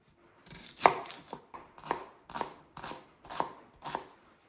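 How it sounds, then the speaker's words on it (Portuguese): Two small onions being diced with a knife on a cutting board, a steady series of crisp close chops, about seven distinct strikes with short pauses between them and no talking. "eu vou picar aqui 2 cebolinhas pequenas ou uma cebola grande"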